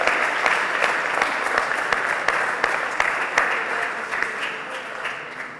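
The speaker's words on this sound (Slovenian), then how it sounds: "Dajmo za Luka ta en aplavz, prosim" An audience at a Slovenian Lenten lecture applauds a boy named Luka; a steady, fairly loud round of clapping in which individual sharp claps stand out, slowly tapering over several seconds.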